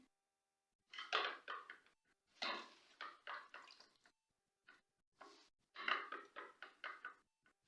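Wet squelching and dripping in three bursts as damp mustard greens are dropped and pressed into a metal pressure cooker, with short quiet gaps between.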